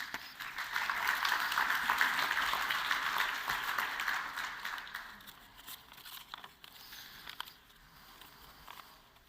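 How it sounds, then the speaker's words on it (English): An audience at an EV and battery supply chain conference claps, a full round of applause that swells and then thins to scattered claps and rustling as it fades out. "A round of applause, please"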